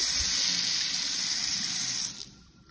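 Strong, high-pressure water runs from a kitchen faucet with a removable spigot into a farmhouse sink, a loud steady hiss and splash that cuts off near the end.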